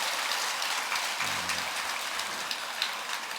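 Audience applause at a Buddhist dharma assembly during the month-long Avatamsaka (Hwaeom) Sallim dharma gathering at Tongdosa temple, a dense, steady patter of many hands clapping throughout with no talking.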